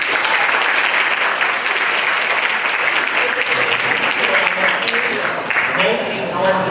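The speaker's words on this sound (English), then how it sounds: "please clap your hands and make a sound that you will be recognized" Seminar students on a school campus clap loudly and continuously, a dense roomful of applause with some cheering voices mixed in.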